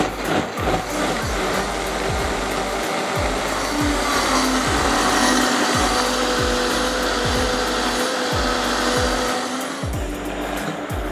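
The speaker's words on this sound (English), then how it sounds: "So the beans have to be blended and everything needs to be crushed down." A blender purees beans for a smooth pumpkin curry with a loud, whirring motor hum and repeated rhythmic grinding thumps. It runs steadily nearby and cuts off shortly before the end.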